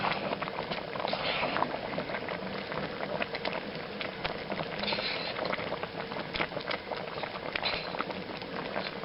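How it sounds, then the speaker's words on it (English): Grouse stew with morels and dumplings boiling steadily in a pot, a continuous close bubbling and pattering simmer with no pauses. "we want to keep that liquid boiling"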